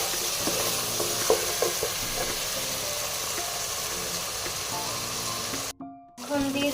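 Meat frying and being stirred in a pot for home-cooked biryani, a continuous sizzling hiss with scattered scraping clicks from the spoon, steady and close, before a brief dropout near the end.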